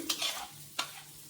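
Soft scraping stirs of a spoon in a pan over a faint sizzle of asafoetida, dried red chillies, green chillies and curry leaves in hot oil on low heat, two brief strokes in a quiet kitchen.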